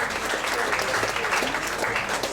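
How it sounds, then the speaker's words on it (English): Crowd at a fundraising event in a Bali venue clapping loudly and continuously, a thick close-up wave of applause with no speech over it. "give him a big round of applause"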